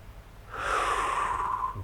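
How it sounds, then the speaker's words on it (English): One slow, deep breath taken during a gentle stretching exercise for pain relief and posture, close and steady for over a second, with no talking. "The same kind of breathing as before,"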